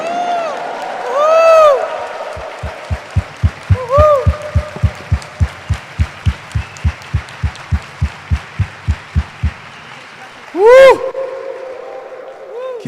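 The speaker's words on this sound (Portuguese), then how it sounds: "Uma salva de palmas para o Pai Eterno, minha gente." A church congregation claps in unison, about two dozen loud rhythmic claps at a steady beat. Amplified singing and a voice come before and after the clapping.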